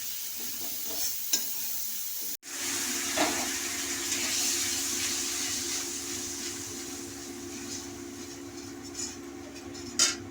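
Masala stir-fried in a pan for a Bengali chana dal dhoka curry: a broad steady frying hiss with a sharp knock early on, then sustained sizzle with occasional spoon scrapes, no voices.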